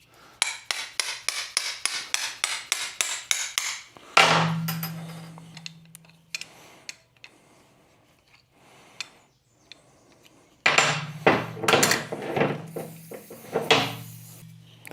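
Old link pin bushings being hammered out of a VW king pin front axle: a fast run of sharp metallic strikes, then two separate loud bursts of banging with quieter clanks between.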